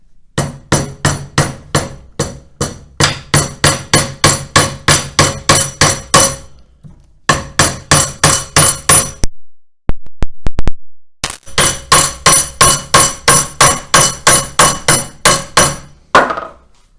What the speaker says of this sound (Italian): andate a martellare sul cartone